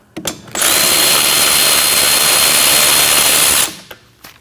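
A power tool, likely an impact driver or drill, spins out a rear parking brake bolt on a 2011-2016 Kia Optima in one loud sustained whir of about three seconds, with faint clicks before and after.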